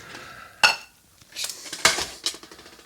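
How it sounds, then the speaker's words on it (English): Old army-style metal cutlery set and cooking pots, over 25 years old, clink together in a few sharp bright metallic clatters close by, with quieter rattling between. "The old army style cutlery set. And my cooking pots."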